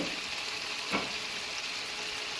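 Peas added to chicken liver frying in a pan, stirred through with a steady hiss and crackle of hot oil and one brief scrape of a spoon.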